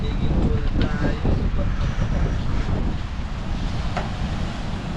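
Strong, steady wind on a mountain in Candelaria, Zambales buffets the microphone in a continuous low roar, with faint voices now and then.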